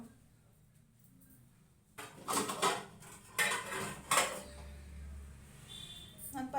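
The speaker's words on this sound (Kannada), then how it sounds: "ನೋಡಿ ನಾನು ಪಾತ್ರೆ ಇಟ್ಬಿಟ್ಟು" A metal cooking pot is set on a kitchen stove for chicken sambar, with a cluster of close clanks and scrapes after a quiet start, then softer rattling. A voice is heard faintly in the background.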